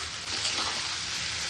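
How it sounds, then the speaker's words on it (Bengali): Onions frying with bay leaf in a pan for spiced beef brain curry, giving a steady, loud, even hiss of sizzling oil throughout with no pauses. "তেজপাতা দিয়ে এখন আমি পেঁয়াজটাকে একটু ভেজে নিয়ে"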